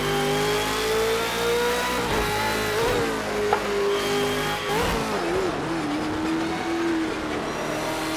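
A race car in the Project Cars 2 video game at Bathurst, its engine revving hard at full throttle with gear changes through third and second, a loud continuous tonal whine that shifts pitch as it climbs out of the dipper.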